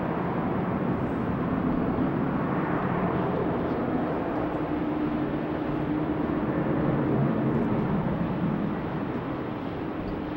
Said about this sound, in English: double trouble once again with the Dreamliners. 1-9, 1-10, both on the way to runway